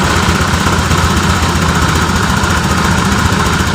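A Honda Vario 125 scooter engine, which misfires and overheats, idles steadily at lowered revs, a loud, continuous low-pitched putter with a fine regular pulse, heard close up throughout with no talking.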